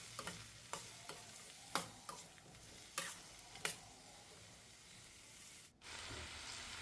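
Ripe tomatoes sauté with onions in a pan for an idli and dosa chutney, with a soft steady sizzle broken by a series of quiet spatula scrapes and taps, no voices.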